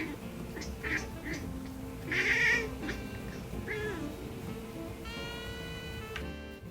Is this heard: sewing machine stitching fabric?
no